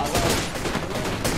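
Rapid automatic gunfire in the battle royale shooter Apex Legends during a competitive match: a close, loud burst of repeated shots that runs without a break.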